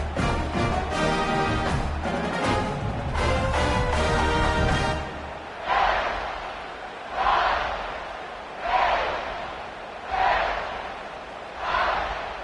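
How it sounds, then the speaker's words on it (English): Home crowd at a football stadium during a Miami versus Washington game, a dense roar with a steady pulsing beat in the first seconds, then settling into repeated swelling cheers at regular intervals. "they're really feeding off of this home crowd and their energy"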